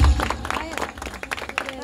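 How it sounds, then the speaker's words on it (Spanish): Brief burst of crowd applause at a 50th birthday celebration in Piedras Lisas, Joyabaj, Quiché, loud clapping over under two seconds mixed with voices and background music. "Sus aplausos, hermanos. Dale."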